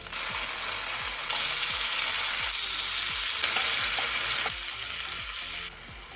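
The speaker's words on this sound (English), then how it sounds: "The pan frying method will improve the texture of the chicken." Steady loud sizzling of chicken pan-frying for adobo in a hot pan, with occasional scraping and stirring clicks throughout.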